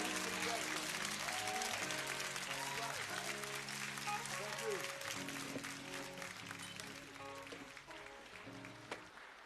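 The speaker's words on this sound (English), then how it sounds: "Let's usher them to the stage with a very big round of applause" Applause for award recipients being called to the stage at a provincial excellence awards ceremony in KwaZulu-Natal, a big hall crowd clapping steadily throughout over stage music, gradually easing in loudness toward the end.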